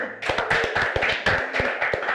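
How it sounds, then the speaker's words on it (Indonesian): Applause at a gathering celebrating a regency's award nomination, sparse and distinct hand claps from a small group, loud and close, with individual claps clearly separated. "Tepuk tangan dulu."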